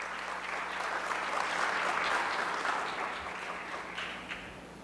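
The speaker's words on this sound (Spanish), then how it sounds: "le vamos a dar un fuerte aplauso para recibir tanto a los ponentes como al moderador" An audience in La Paz claps to welcome speakers and a moderator at a city-building event, the applause dense and even, swelling slightly midway and easing off toward the end.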